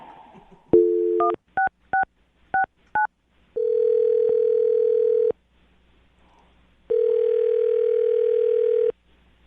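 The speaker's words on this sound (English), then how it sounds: "I'm going to dial the phone number right now" A phone keypad beeps through a quick series of dialing tones, followed by two long steady ringback tones separated by a pause, as a call is placed.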